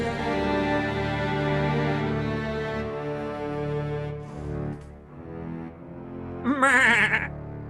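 A goat bleat voiced by a performer in a comedy improv radio play: a loud, sustained, wavering nasal cry that rises into a shaky, quavering bleat near the end. It sounds like a human voice imitating the animal.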